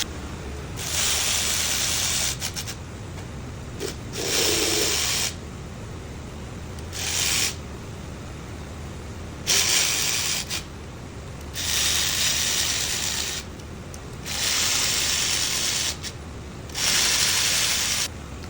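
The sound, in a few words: tool tightening cylinder head bolts on LS engine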